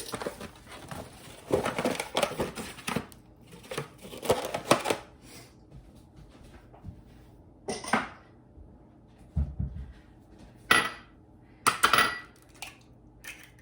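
Two eggs cracked into a bowl of blood orange bar batter, a few sharp taps and clicks of shell against the rim spread out between quieter stretches, close and crisp with kitchen clatter.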